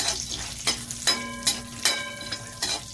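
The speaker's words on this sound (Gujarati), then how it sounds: "ઘી ગરમ થઈ ગયું છે, હવે આમાં કાજુ બદામ નાખું છું, થોડા શેકી લો" Cashews and almonds roast in hot ghee in a pan, a soft sizzle broken by repeated stirring scrapes and clinks of a spoon against the metal at irregular intervals.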